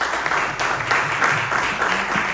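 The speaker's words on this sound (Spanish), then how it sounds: "Denle un fuerte aplauso al Señor" A church congregation claps together in a steady, moderate patter of applause heard from within a large room.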